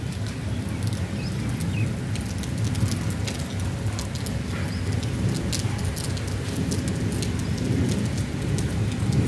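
Light rain falling steadily outdoors, a continuous soft patter of drops on surfaces with a low rumbling undertone throughout, no voices.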